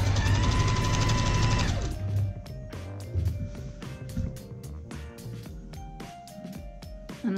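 A sewing machine runs a wide stitch along a Punjabi salwar kameez seam: a steady motor whir at first, then a rapid, regular run of stitching pulses, close and clear.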